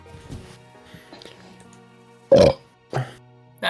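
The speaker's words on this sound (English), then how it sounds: "He always ends on the burp every single time" A loud, close burp bursts out after quiet background noise and is followed by a couple of shorter, rougher bursts.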